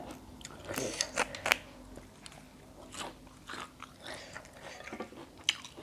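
Close crunchy biting and chewing of food such as pounded frog dip with blanched neem shoots and boiled egg, a run of crisp bites and wet chewing with no talk.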